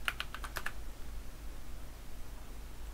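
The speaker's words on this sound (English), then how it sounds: "What am I typing wrong here?" A short burst of clicky keystrokes on a computer keyboard at the very start, typing a command while modding the game 7 Days to Die, then fades into a low steady hum with no talking.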